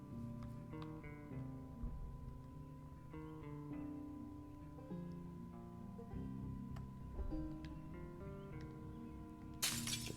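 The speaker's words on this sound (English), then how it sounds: "carefully removes the broken glass" Broken window glass being cleared from a smashed window in Project Zomboid, with clinks and tinkling glass over a quiet musical backdrop, ending in a brighter shattering crunch.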